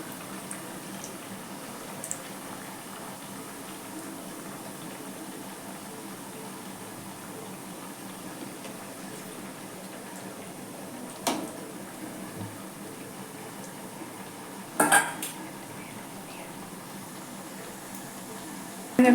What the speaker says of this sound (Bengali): খুব কম আঁচে দিয়ে ভাজবো।